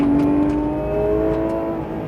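A Porsche 911 (991) GT3 RS engine drones loudly and steadily on a racing circuit, its pitch sliding slowly as it pulls under load, close by with no voices.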